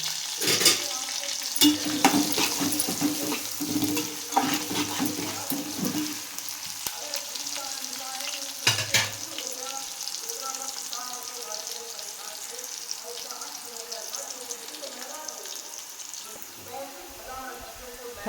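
Chopped onions sizzle steadily in a hot pan for a village-style brinjal and dried fish curry, with loud scraping stirs near the start and at intervals, and a voice talking over parts of it.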